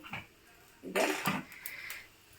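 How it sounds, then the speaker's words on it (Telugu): Spices stirred into hot oil in a pan: a few brief, soft clinks and scrapes of a spoon against metal, fairly faint and close. "ఇలా ఆయిల్లో కొంచెం వేగనిస్తా అనమాట నేను ఇలా కలపాలి"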